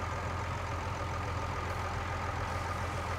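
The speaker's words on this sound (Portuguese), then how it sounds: "Deixa eu chegar aqui com o trator aqui perto." A tractor engine idles in the Farming Simulator 19 video game, a steady low rumbling drone with a constant broadband hum and no speech over it.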